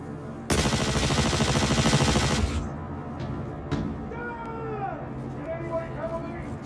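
Rapid weapon fire from the Star Citizen game rattles loudly for about two seconds, then stops, leaving scattered short bursts, warbling tones and a steady hum.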